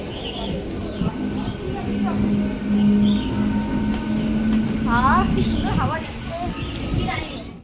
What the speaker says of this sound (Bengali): এই যে ট্রেন ছাড়ছে